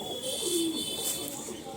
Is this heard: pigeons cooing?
yes